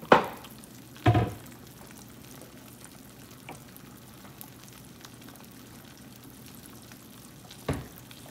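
Eggs sizzle softly in a pan at a low, steady hiss, broken by a few louder clattering bursts near the start and again near the end.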